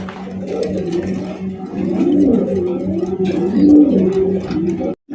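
Yellow Bombay pigeons cooing nearby in a loud, repeated, rolling series of throaty coos that ends in a brief gap, with no talk.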